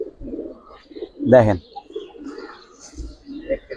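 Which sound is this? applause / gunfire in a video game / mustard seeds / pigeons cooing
pigeons cooing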